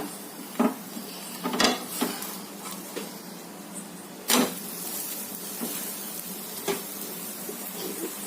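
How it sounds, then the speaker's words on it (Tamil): An egg dosa cooking in plenty of oil on a pan, with a soft steady sizzle broken by a few sharp spatula scrapes and clanks as it is turned over. "இப்போ முட்டை தோசை வெந்துருச்சுங்க திருப்பி போடலாங்க"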